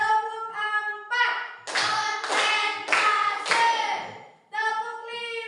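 Four crisp group claps in an even beat during a classroom icebreaker clapping game, with voices chanting just before and right after the claps.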